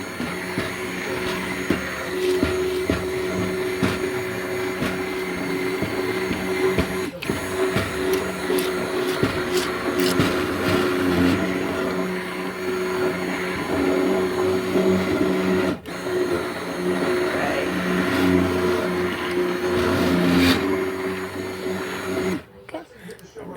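A kitchen blender whirs loudly while blending tomatoes for homemade tomato sauce, a sustained motor drone with shifting pitch and brief dips as it runs on for a long stretch.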